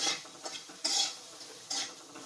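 Soybean curry being sautéed in a pan, a soft sizzle under three distinct scraping stirs of a spoon against the metal, close and fairly quiet.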